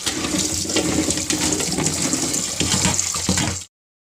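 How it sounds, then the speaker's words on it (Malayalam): Chopped tapioca (cassava) being washed in water, a continuous close splashing and rushing of water that cuts off abruptly near the end, with no voices. "കപ്പ കൊത്തി എല്ലാം റെഡിയാക്കി എടുത്തിട്ടുണ്ട് അന്നേരം നമുക്കൊന്നുകൂടെ കഴുകിയെടുക്കാം"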